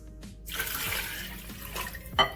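Tap water runs into a pressure cooker pot to cover bones for a mole colorado broth, a steady close splashing pour with a brief louder splash near the end.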